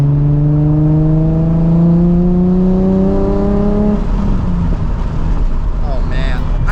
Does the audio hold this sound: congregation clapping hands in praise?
no